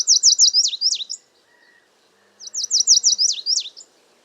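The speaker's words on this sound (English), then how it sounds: "lazuli buntings have a lovely song" A lazuli bunting sings two bright, fast phrases of rapid descending chirps, one at the start and another after a short quiet gap, clear and fairly close with no talk.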